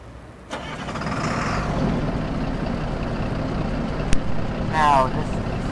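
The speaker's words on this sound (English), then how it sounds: "Start the truck up here." A Kenworth W900 truck's large diesel engine cranks and rumbles to life, settling into a steady low idle, with a brief click and a short rising tone near the end.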